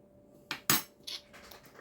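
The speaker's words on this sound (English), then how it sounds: "I'm going to add some vanilla essence into this. I'm going to put a tablespoon in," A tablespoon of vanilla essence goes into homemade vanilla fudge, marked by a few quiet, brief spoon clinks against the bowl in otherwise near silence.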